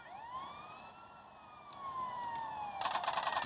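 A police siren wails in GTA San Andreas: a long rising-then-falling tone sweeping through the clip, moderately loud, ending in a rapid pulsing yelp burst near the end.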